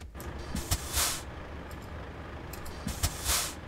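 Hand brake on a Mercedes O 403 bus in a bus simulator game: sharp bursts of releasing air, several short hisses and two longer gusts, loud and close, with no voices.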